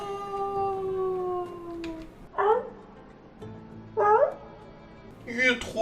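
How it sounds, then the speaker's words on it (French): A small tailless dog in the video game My Time at Sandrock gives three short, rising whiny yelps spaced about a second and a half apart, heard over a soft sustained game tone. "Bien un petit chien comme ça sans queue."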